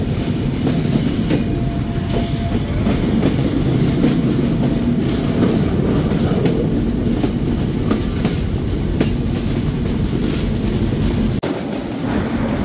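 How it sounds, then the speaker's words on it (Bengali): Benapole Express intercity train, number 795/796, pulling out of Chuadanga railway station in Bangladesh; a loud, continuous rumble of rolling wagons with rhythmic clickety-clack over the rails, heard up close throughout with no talking. "ট্রেনটি ছেড়ে যাচ্ছে চুয়াডাঙ্গা রেলওয়ে স্টেশন"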